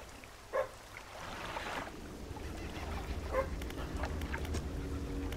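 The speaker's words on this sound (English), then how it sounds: "the dog approaches slowly, but soon begins to lick them" A dog in the fishing video game Dredge gives a brief soft whimper or yelp, with a second faint one a few seconds later, over steady low water and boat ambience; no one talks.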